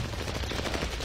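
Rapid burst of automatic gunfire in a first-person shooter game, loud, dense, continuous shots filling the whole moment with no talk.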